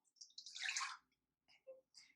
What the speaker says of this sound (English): We're going to pour into our bowl.